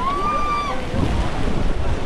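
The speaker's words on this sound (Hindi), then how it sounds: "चल ऐसे पीछे भारी वाटरफॉल है" A heavy jungle waterfall in monsoon pours with a steady, dense rushing roar that holds constant throughout. A brief high whistling tone rises over it at the start.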